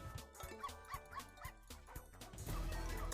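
Cartoon dogs bark and yip over the bouncy music of The Dog House Megaways slot game. The barks come in a quick rhythmic series, followed by a crash-like swell of sound, all at low overall volume.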